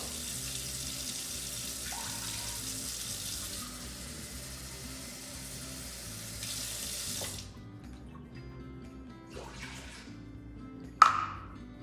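Water from a kitchen tap pours steadily into a pot for cooking hog maws, a constant hiss and splash for about seven seconds, then cuts off, followed by faint drips and a sharp clink near the end.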